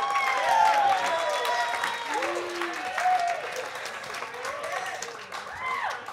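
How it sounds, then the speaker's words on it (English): Wedding reception guests applaud the best man, steady clapping with scattered cheers and whoops while voices chatter through the crowd. "Give him a nice round of applause."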